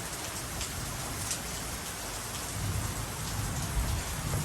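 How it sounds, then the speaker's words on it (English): Steady rain hisses on surfaces on a wet weekend while a low, rolling rumble of thunder swells in the background toward the end, with no one talking. "You probably heard the thunder."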